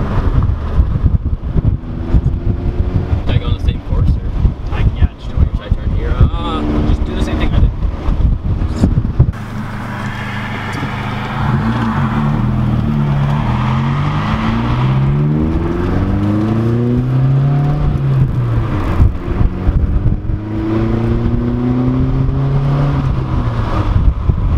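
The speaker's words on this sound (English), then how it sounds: "Wow, I love the turbo." A turbocharged Volkswagen GTI engine accelerating, heard from inside the car: engine and wind roar, then a steady climb of rising engine tones through several gear changes, loud and close.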